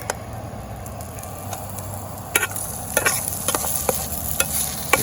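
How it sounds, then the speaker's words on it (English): Sausage sizzles in a small mess kit pan over a camp stove outdoors, a soft steady frying hiss broken by scraping utensil strokes and clicks that grow busier toward the end. "Almost there, getting a little bit more crispy."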